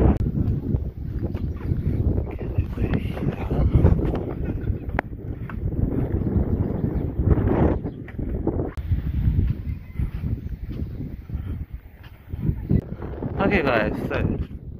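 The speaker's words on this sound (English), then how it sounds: "it's very, very, very windy here" Strong wind in Wellington batters the microphone in continuous loud, low rumbling gusts that surge and ease throughout.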